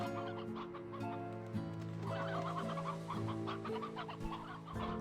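Hens cluck in a farm coop in the Slime Rancher 2 video game, a steady run of layered, close clucks and soft calls with no voices over them.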